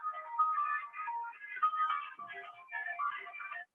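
A mobile phone rings close by with a bright electronic melody that plays steadily for several seconds, alone and without talk.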